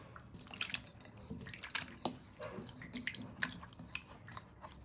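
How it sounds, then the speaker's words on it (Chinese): Water runs and drips over apples being rinsed by hand under a clean-water tap, a soft irregular splashing with scattered sharp droplet hits, close and steady for a few seconds with no talk. "然后再用清水反复的多冲洗2次"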